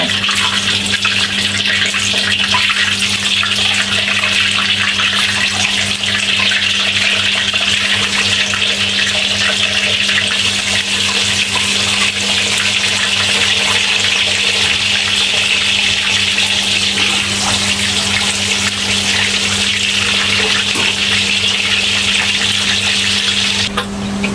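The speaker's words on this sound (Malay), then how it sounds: "Ini kita goreng telur." Eggs fry in hot oil for sambal goreng, giving a continuous loud hissing sizzle with fine crackling, steady from start to finish with no talk.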